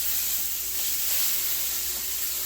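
Garlic butter chicken cooking in a pan gives off a steady, even sizzle with a constant hiss and no talking.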